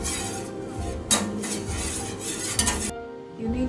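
A roasted, crushed cardamom, cumin and dry ginger mixture stirred into a thick sweet mixture in a pan, with continuous scraping and a light clink of utensil on metal, close by, before the sound stops abruptly.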